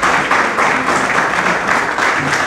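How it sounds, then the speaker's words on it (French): Steady applause from a seated audience at a book signing event, dense continuous clapping throughout at moderate loudness with no break. "que je vous demande d'applaudir très fort"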